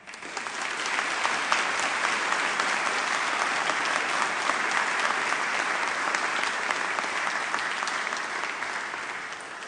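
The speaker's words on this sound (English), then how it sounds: "let's begin with a round of applause" Sustained applause from the audience for graduates at a School of Business graduation ceremony, an even, steady wash of many hands clapping throughout without voices.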